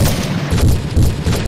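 Rapid, dense video game mech gunfire, modeled on Titanfall 2 titans, roars continuously at close range, loud and unbroken, with booming low rumble beneath the bursts.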